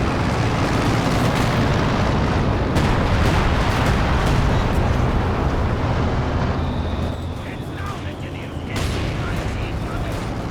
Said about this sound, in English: drops some artillery to prevent the chase